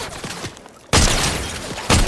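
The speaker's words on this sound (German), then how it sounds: "Oh, Schüsse." Gunfire in the Fortnite video game comes as sharp, loud bursts: one volley cracks in after a quiet start and a second follows about a second later, close and dense.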